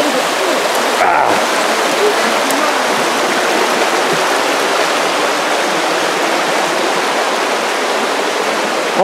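Pomme de Terre River water rushes loudly and steadily around a person wading in, a close, continuous broadband roar with a brief splash early on.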